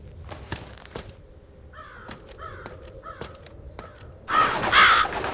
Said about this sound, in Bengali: ভাই এত কাক কোথা থেকে আসবে?